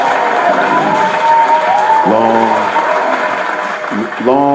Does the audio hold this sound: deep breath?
no